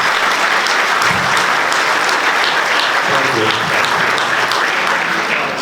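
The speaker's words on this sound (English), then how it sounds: "I think you guys all deserve a round of applause from us" An audience in Bucks County gives a sustained round of applause, a dense, steady wash of many hands clapping at once throughout, with faint voices underneath.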